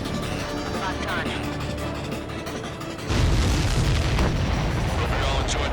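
Explosions in the Ace Combat 7 flight combat game rumble under a steady engine drone, with a heavy deep boom breaking out partway through and lingering, while voices talk over it.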